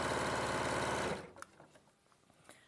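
Sewing machine runs steadily stitching organza backing for about a second, then stops, leaving faint handling noises and quiet room sound.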